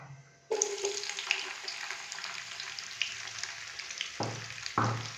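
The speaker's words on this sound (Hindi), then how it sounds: "प्याज को हम हल्का सा फ्राई करेंगे 3 से 4 मिनट के लिए" Finely chopped onion hits hot oil with roasted cumin seeds and fries with a loud, steady sizzle, broken by a few stirring scrapes and a brief dip before the frying surges again; no one speaks.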